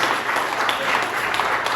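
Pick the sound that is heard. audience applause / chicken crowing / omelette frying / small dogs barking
audience applause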